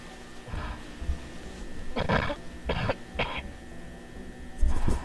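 A person coughing in a dim, eerie Backrooms found-footage setting: several rough, hacking bursts spaced a second or so apart, close and harsh over a low hum.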